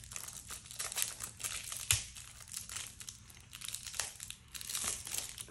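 Plastic packaging crinkles and crackles up close in continuous bursts, with a sharp tearing snap partway through.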